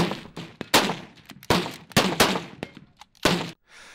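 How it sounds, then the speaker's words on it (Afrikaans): Rapid gunshots crack at a Boer versus Brit shooting competition during a firearms festival in the Northern Cape, about a dozen sharp, loud reports in an irregular burst before cutting to quiet. "koes vir die skote wat klap in die boer teen Brit skietkompetisie"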